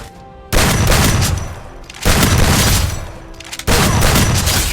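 Gunfire in the battle royale game Free Fire during a solo-versus-squad match where an M82B sniper rifle is in use, with three loud sustained bursts of shooting and explosions broken by brief lulls, up close and with no talking.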